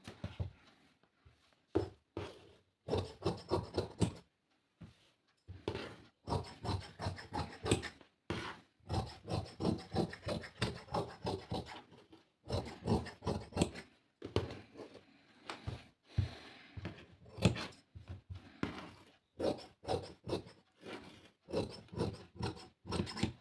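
Scissors cut blouse fabric on a cutting surface, giving repeated rasping, rubbing snips in quick rhythmic bursts with short pauses, close and fairly quiet.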